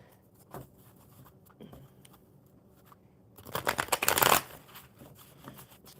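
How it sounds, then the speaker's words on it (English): A deck of cards shuffled close by, with scattered soft taps and shuffles, then a louder burst of rapid riffling in the middle before it settles back to light handling, with no voices. "I'll keep shuffling these cards"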